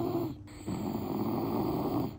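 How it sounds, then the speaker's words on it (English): A pet dog snoring softly indoors, a steady close rasping breath with a brief pause between two long inhales, heard alone. "I think I can hear him snoring right now"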